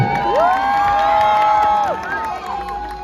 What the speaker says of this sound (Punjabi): ਜ਼ੋਰਦਾਰ ਤਾੜੀ ਮਾਰ ਕੇ ਦੱਸੋ